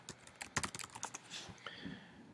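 Password typed on a computer keyboard: a quick run of crisp, close key clicks in an irregular rhythm, ending in a few slower taps, with no talking.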